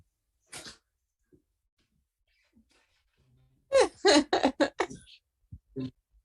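A dog vocalising: a short snort, then a burst of rough grunting, wheezy whines and huffs, close by in a quiet room with gaps of silence.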